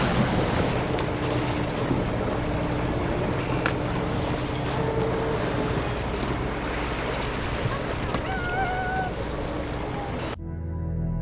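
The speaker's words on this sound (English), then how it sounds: "They're just these huge, thick, rolly waves." Low, steady wash of ocean water and wind rumbles under a sailboat's hum amid huge, thick, rolling waves, with faint voices and a few small tones near the end.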